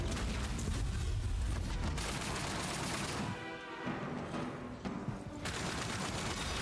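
Sustained heavy gunfire from a shooter battle in the video game Outcast: A New Beginning on Xbox Series X, a dense, loud, continuous barrage of overlapping shots with a brief dip in the middle before the firing picks up again.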